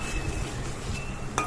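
Ginger frying in oil with a splash of water, stirred in a pan for fish soup: a soft continuous sizzle with faint scraping and a small metallic clink near the end.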